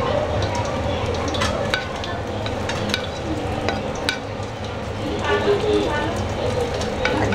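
Cumin seeds and fried onions sizzling in a pot for mutton yakhni biryani, a steady close crackling fry with scattered sharp pops and occasional stirring scrapes, with a voice speaking faintly under it.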